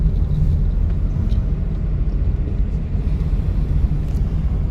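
A car drives beneath a city flyover while traffic passes overhead, making a continuous low rumble of engine and road noise with no talk.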